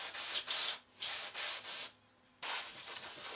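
An airbrush sprays paint onto a Trumpeter 1/32 scale Swordfish model in short hissing bursts separated by brief pauses, close and steady with no talking.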